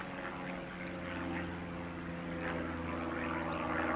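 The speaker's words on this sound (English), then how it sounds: "I've got a plane buzzing around doing circles and loop-de-loops" A small propeller plane drones overhead as it circles and loops through aerobatics. Its steady engine hum holds at moderate distance and swells slightly toward the end, with no voices over it.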